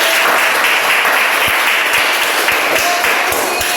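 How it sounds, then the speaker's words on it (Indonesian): A school class applauds after student presentations, a loud, close, steady burst of many hands clapping that runs for nearly four seconds with a few distinct nearby claps standing out. "Tepuk tangan untuk kita semua."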